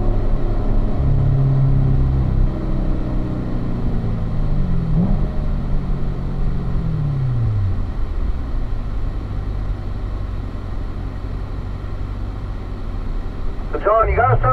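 Several cars pass on a race track, a loud engine roar with rising and falling pitch sweeping by up close for most of the stretch, then fading; a voice speaks briefly near the end.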